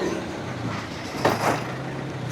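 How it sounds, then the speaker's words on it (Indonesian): A truck loaded with stones rumbles along a dark mountain road at night, a low steady engine drone with a brief louder swell, heard close and with no talking. "Oh, ternyata ada truk saudara-saudara sekalian."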